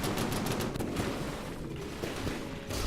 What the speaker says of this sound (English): Yep, cram cannon does do significant damage, as to be expected really.